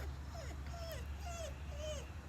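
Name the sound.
dog whimpering and crying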